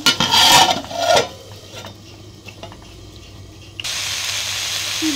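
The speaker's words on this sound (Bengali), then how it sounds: "আমি দিচ্ছি কাঁঠালের বিচিটা ভালো করে কষাই নেব।" Jackfruit seeds sizzling and being stirred with dried fish in a pan over a village cooking fire, with a loud clatter of utensil against pot early on, then a steady hiss of frying.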